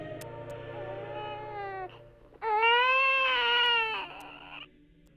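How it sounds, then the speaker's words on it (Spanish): A newborn baby cries in short wailing bursts, rising into a loud, sustained cry and then fading, close and clear over a low hum. "Repentinamente se escuchó el llanto de un niño."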